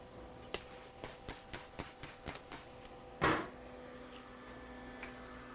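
Bursts of aerosol isopropyl alcohol and distilled water sprayed onto a MacBook logic board during repair: a rapid series of short, sharp hissing puffs, then one longer, louder spray, all close and clear with no voices.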